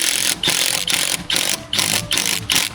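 U2 universal screws driven into carport framing by a power driver, several short bursts of grinding whir separated by brief pauses, close and loud, no talk.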